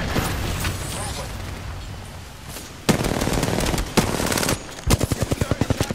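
Rapid video game gunfire: a long sustained burst, then sharp bursts and a rhythmic string of loud, evenly spaced shots near the end, close and punchy with no talk.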